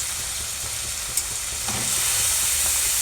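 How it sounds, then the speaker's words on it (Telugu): Mushrooms frying in oil in a pan, for a curry with barbatti beans and potatoes: a steady, close sizzle and hiss with a few small pops and a slight rise in intensity toward the end, with no talk. "ఫస్ట్ ఆఫ్ ఆల్ అయితే మష్రూమ్స్ అయితే ఆయిల్లో వేగనిచ్చేద్దాము"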